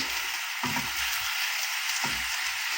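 Onions sizzling in a pan, a steady hiss of frying throughout with a couple of soft stirring scrapes, close and moderately loud, with no talking.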